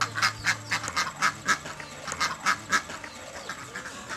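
Ducks quack in a village, a rapid series of about a dozen short, evenly spaced calls at moderate distance, with no voices over them.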